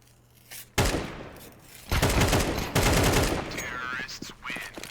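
Gunfire in a competitive video game match: dense rapid bursts of automatic fire in several loud clusters with short gaps, close and harsh, with a commentator talking over part of it.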